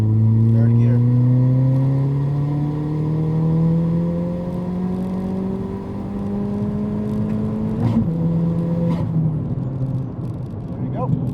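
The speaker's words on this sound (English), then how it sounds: "Full throttle, 3rd gear." Ford Fiesta ST with a tubular quickspool manifold accelerating hard at full throttle in third gear from 2,000 RPM on a freeway on-ramp, engine tone rising steadily and loud throughout, with a brief shift-like break near the end.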